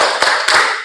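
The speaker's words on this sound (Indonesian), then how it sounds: "Nah, tepuk semangat dulu ya" Classroom group doing a rhythmic spirit clap during an Islamic religious education lesson, with two sharp, loud, unison claps in under a second.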